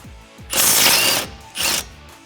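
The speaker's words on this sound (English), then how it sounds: "the first thing that we're gonna do is the brake line bracket here, and then we'll unbolt the caliper and set that aside" Two bursts of ratcheting from a wrench loosening the brake line bracket and caliper bolts on a 2015-2018 Ford Mustang GT, a longer run of clicking followed by a shorter one, close and loud.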